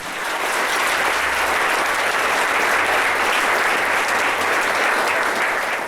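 A congregation claps loudly and continuously in church, sustained dense applause filling the room evenly for several seconds with no voices standing out.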